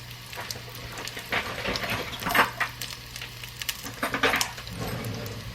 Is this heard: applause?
no